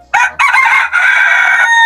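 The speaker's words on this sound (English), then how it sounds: "The cock is the Sultan breed of chicken" A Sultan breed rooster crows loud and close on a farm, one full cock-a-doodle-doo with a brief break near the start and a long held final note, with no other sound.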